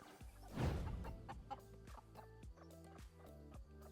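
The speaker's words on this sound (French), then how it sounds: "vous pouvez aussi voir eh bien, les petites poules de la microferme" Small hens cluck at a micro farm, a quick run of close, rhythmic clucks and short calls from a few birds, fairly quiet with no talking.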